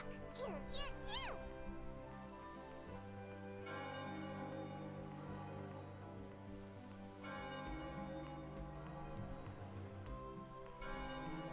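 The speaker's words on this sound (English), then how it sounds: "It's the bell of evocation now." The bell of evocation chimes in Chocobo's Mystery Dungeon, sustained ringing tones layered with game music, struck again at intervals across the stretch, steady and moderately loud after a brief opening vocal sound.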